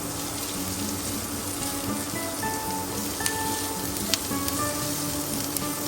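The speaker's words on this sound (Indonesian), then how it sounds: "Setelah bawang bombay mulai sedikit layu, masukkanlah bawang putih dan tumis hingga wangi" Garlic added to wilting onion sautéing in a pan, a dense continuous hiss and crackle of frying oil, close and fairly loud, with a couple of faint clicks.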